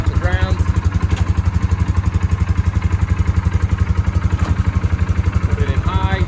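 A Polaris vehicle's engine runs steadily in two-wheel drive with its wheels off the ground on jack stands, producing a fast, even, close-up thrum of pulses with light mechanical clatter throughout.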